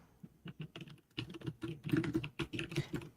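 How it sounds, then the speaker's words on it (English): Fast typing on a computer keyboard, with rapid irregular clicks and clacks in quick bursts, close and alone without talk. "what are you furiously typing?"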